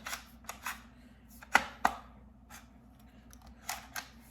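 A part of a shotgun magazine tube on an Alpharms Silver Eagle Gold Horse shotgun snaps into place with two sharp, close metallic clicks amid faint handling rustles and taps.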